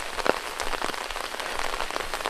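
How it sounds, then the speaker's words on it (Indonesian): Light rain patters steadily around a small hut in the middle of rice fields, a soft continuous hiss of drops with occasional sharper splashes nearby. "Jadi ini hujannya nanggung sih ya."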